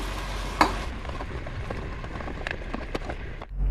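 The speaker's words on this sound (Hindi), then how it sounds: "हम उस वक्त तक फ्राई करेंगे जब तक इसका कलर चेंज ना हो जाए, यानी कि ये सफ़ेद ना हो जाए।" Chicken fries in a pan in a steady, close sizzle with a few scraping stirs, lasting throughout before a low thump at the end.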